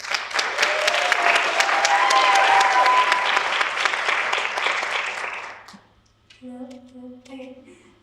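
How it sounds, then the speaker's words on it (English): A pageant audience applauds loudly and steadily for about five and a half seconds, then the clapping fades out and a voice speaks briefly. "Let's give her a round of applause."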